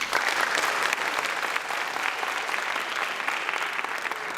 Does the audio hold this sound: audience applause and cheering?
yes